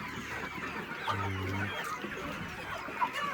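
Several chickens about 90 days old cluck and murmur nearby, with one sustained low call in the middle over a busy barnyard background.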